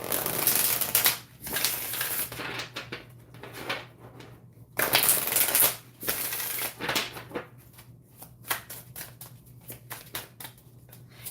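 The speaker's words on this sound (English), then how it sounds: "I really like how it shuffles." Crystal message cards being shuffled by hand, with repeated soft papery riffles and clicks in bursts, close and clear with no talking.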